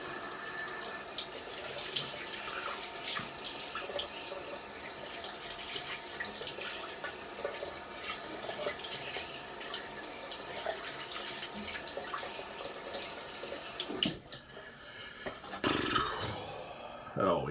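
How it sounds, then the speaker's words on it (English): Cold tap water runs steadily into a sink for a shaving rinse, a constant close hiss and splash that stops near the end, leaving a few quieter splashes. "we're going to do a cold water rinse."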